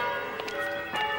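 Automatic cathedral church bells ring with sustained, overlapping metallic tones, and a couple of fresh strikes land within the brief span.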